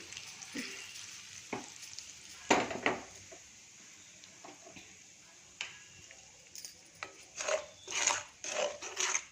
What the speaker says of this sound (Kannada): ಸ್ವಲ್ಪ ಆಯಿಲ್ ಹಾಕಿದ್ದೀನಿ ರೆಡ್ ಚಿಲ್ಲಿ ಪೌಡ್ರು ಅರಿಶಿನ ಉಪ್ಪು